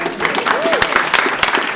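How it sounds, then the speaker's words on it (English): Audience applause at a school parent coffee session, steady clapping filling the room at close range, with a voice briefly rising over it partway through. "Let's give him a round of applause."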